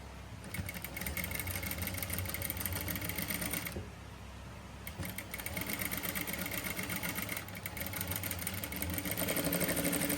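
A sewing machine stitches a princess-cut saree blouse, a close, steady mechanical whirr and rapid needle clatter running nearly continuously, broken by two short pauses.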